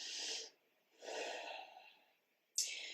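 Slow, deliberate breaths during a yoga practice session, audible as three long airy exhales and inhales with short quiet gaps between them, close to the microphone and with no talking.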